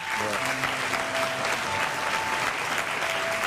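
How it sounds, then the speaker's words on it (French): Studio audience applause on a television set in Côte d'Ivoire, steady and dense for the whole stretch, with a voice briefly heard underneath at the start. "Je pense que ça s'applaudit, s'il vous plaît."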